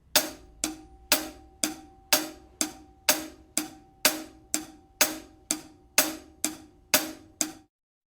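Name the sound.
rock beat hi-hat pattern, constant eighth notes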